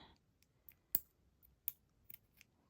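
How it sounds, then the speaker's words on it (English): Scissors snip elastic bracelet cord in a few quiet, sharp clicks spaced irregularly. The background around them is near silence. "Cut the elastic."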